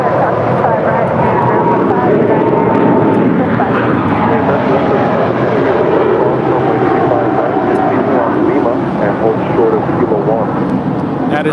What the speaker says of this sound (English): That is Turkish Airlines flight 180 departing to Istanbul. It's an 11-year-old 777-300ER.